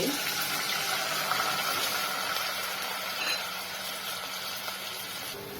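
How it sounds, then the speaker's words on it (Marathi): A cup of water pours steadily into a pan with a rushing, gushing hiss that holds for several seconds and eases slightly toward the end. "1 वाटी पाणी टाकून घ्यायचे।"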